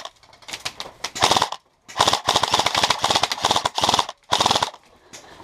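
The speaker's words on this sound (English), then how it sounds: "We're taking heavy ass fire." Airsoft guns rattle off in rapid, loud bursts during an outdoor skirmish at a paintball field, several volleys separated by brief pauses, with no talk over them.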